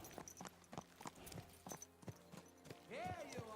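Horse hooves clip-clop at a steady walking pace in the Peasant Simulator video game, with a voice speaking over the hoofbeats and a horse whinny rising near the end.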